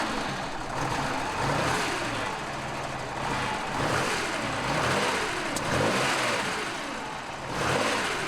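Air-cooled flat engine of a Porsche 911 T Targa revving steadily, rising and falling in repeated surges with a raspy, broadband roar that stays loud and close throughout.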